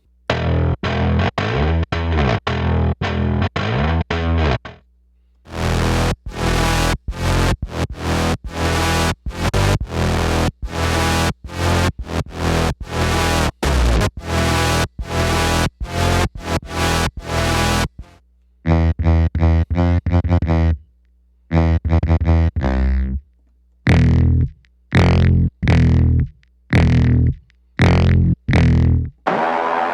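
Heavy distorted synth bass blasts and booming brass-like braams pulse in rhythmic trailer-music loops, cutting off abruptly between phrases, loud and aggressive.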